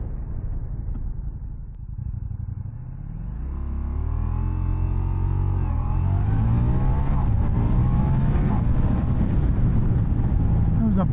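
A 2024 Ducati Diavel V4 motorcycle accelerating, its V4 engine note sweeping upward in pitch through the gears and building to a loud, steady roar, heard close from the rider's position.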